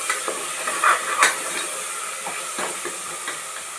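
Tomatoes and onions sautéing in a pan for a mushroom biryani, heard as a soft, steady hiss and sizzle with a few faint stirring scrapes.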